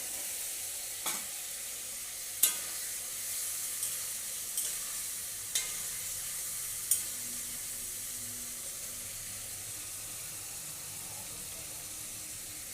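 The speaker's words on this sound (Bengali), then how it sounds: "এবার ভেজে রাখা ডিমটা আমি দিয়ে দিচ্ছি।" Fried eggs go into a sizzling Bengali egg curry, giving a steady soft frying hiss with a few sharp clinks and taps of a spoon against the pan, close and even throughout with no voices.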